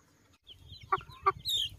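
A native chicken clucks twice in short bursts, fairly close, with faint chirping and light background rustle around it.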